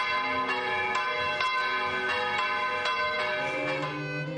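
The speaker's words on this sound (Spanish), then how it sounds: "A las 11:30 comenzaban a sonar las campanas, avisando a los vecinos del comienzo de los actos religiosos." Church bells ring steadily and loudly before a religious procession at a neighbourhood festival in Segovia, Spain, their strikes repeating in a regular rhythm over a sustained, ringing tone.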